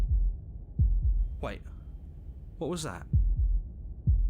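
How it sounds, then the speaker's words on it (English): Deep, muffled heartbeat thuds from the video game Slay the Princess, arriving in paired beats at a steady slow pace, with a single voice speaking briefly between them. "That was the sound of a heartbeat"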